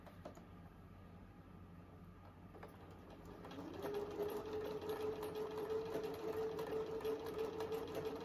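A sewing machine zigzag stitches along a cut fabric edge, its quick rhythmic needle chatter starting quietly up close, then running louder and steadier once it gets going.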